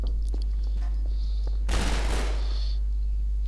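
Gunfire in the Precursor Source mod video game: a loud, dense burst of shots roughly midway through, standing out from a quieter game backdrop with no talk.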